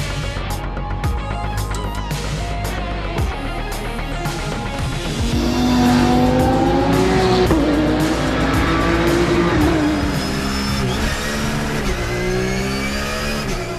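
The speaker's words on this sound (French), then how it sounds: "Les pilotes vont donc se placer sur la grille avant de procéder au traditionnel tour de chauffe en vue du départ." Race cars on a warm-up lap at the Paul Ricard circuit, engines droning and revving loudly throughout, with rising and falling pitch as the cars pass and a surge in volume midway.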